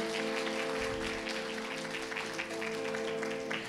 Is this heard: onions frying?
no